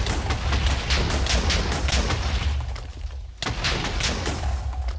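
Explosions from a Minecraft superpowers datapack's explosive power, heard as dense, continuous booming rumbles and blasts that fill the clip loudly, with a brief dip before another burst.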